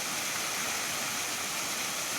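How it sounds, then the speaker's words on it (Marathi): A monsoon-season waterfall pours down a village hillside slope as a steady, dense rushing roar, continuous and fairly close, with no talk over it. "पहा मित्रांनो हा धबधबा"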